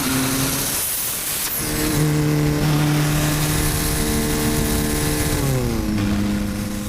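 A 1.9 TDI Volkswagen Corrado with a sequential gearbox accelerates hard, its loud engine drone climbing in pitch through several sharp gear changes, with rushing wind noise throughout.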